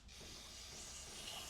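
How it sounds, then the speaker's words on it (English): Brake cleaner sprays from an aerosol can onto a Piaggio Ciao moped, a steady close hiss running without a break for the whole stretch, with no talking. "Let's use some brake cleaner for once for what it's actually supposed to be used for."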